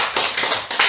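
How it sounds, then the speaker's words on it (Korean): A lecture audience applauds together, the dense clapping pulsing in short waves, steady and fairly close with no talk over it. "자축의 박수를 좀 합시다"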